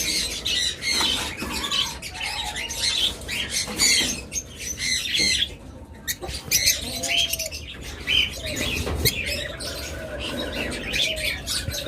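Pet birds, including opaline and street fellow pairs, chirp and squawk steadily at a bird seller's, a dense chorus of overlapping tweets and harsh calls close by, with no talking.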